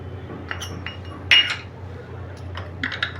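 A spoon clinks and scrapes against a bowl while gram flour is stirred into coconut milk, giving a few light metallic taps over a steady low hum.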